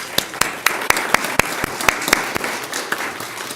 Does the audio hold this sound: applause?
yes